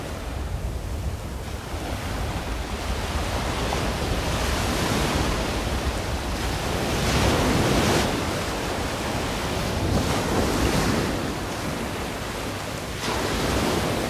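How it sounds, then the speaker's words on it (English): Ocean surf rolls onto an Australian beach in continuous, loud washes that swell and recede every few seconds, with wind buffeting the microphone throughout. "Love the sound of the waves."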